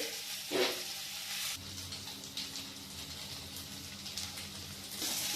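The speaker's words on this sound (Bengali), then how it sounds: "এগুলো ভালো করে ভেজে নিতে হবে ফার্স্টে" Steady, close sizzling of baby corn frying in hot oil, with occasional stirring scrapes and a brief louder hiss near the start.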